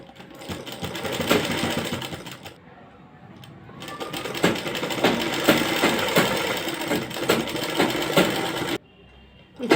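Sewing machine running long basting stitches through cloth, a close, rapid mechanical whirring in two longer bursts separated by a softer pause, ending with a brief stop and restart.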